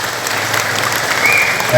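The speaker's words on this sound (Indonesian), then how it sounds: "Boleh beri tepuk tangan untuk mereka" Crowd applause at an outdoor political gathering in Garut, a steady wash of clapping with some voices mixed in, fairly loud throughout.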